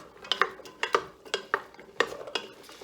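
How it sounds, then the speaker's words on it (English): A spoon stirs eggplant and other vegetables in oil in a pot for minestrone, giving about six soft scraping knocks against the pot in an uneven rhythm, close and quiet with no talking. "Give it a good stir so everything's coated with a little bit of that oil."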